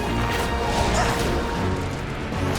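Dogs barking in the Final Fantasy XIV game, a dense scuffle of yips and crashing hits packed into a short burst with a busy game soundtrack running underneath.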